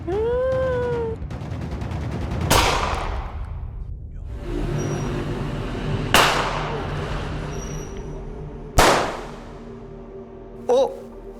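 Several sharp gunshot cracks ring out a few seconds apart amid loud, noisy commotion on a Seoul street in 2016, with a high wailing cry at the start, as a police officer is shot.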